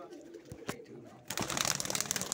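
Pigeons, including Sialkoti cross birds, coo and rustle in a close flock, starting faint and turning into a denser, busier chorus of calls and fluttering in the second half.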